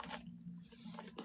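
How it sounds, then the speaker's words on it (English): Close, soft chewing of a homemade Hot Pocket filled with pizza dough, wet squishy mouth sounds in a short quiet stretch with no talking. "if y'all hear me munching in your ears"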